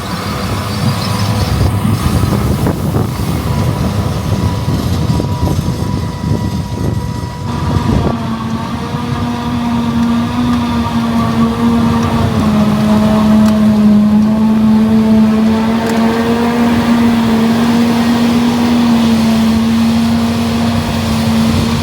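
A Claas Jaguar 1200 forage harvester chopping triticale works alongside a New Holland T8.410 tractor pulling an Oxbo 2340 merger, producing a loud, steady machinery roar with a sustained droning hum throughout and no talking.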